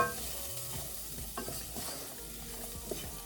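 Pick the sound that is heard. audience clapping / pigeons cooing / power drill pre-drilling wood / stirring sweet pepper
stirring sweet pepper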